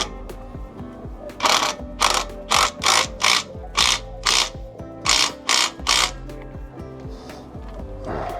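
An impact wrench rattles in short repeated bursts on an engine bolt during exhaust work, about ten loud, evenly spaced hammering buzzes, close and mechanical, with faint clanks between them.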